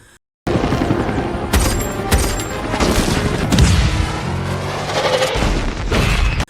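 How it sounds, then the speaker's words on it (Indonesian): A helicopter fires down on the hijackers' cars in an action movie scene about an oil heist. Loud, close bursts of automatic gunfire mix with booming impacts and vehicle noise, with no talking. "helikopter 2 dapat menemukan rombongan para pembajak lalu menyerang mereka dengan tembakan dari atas"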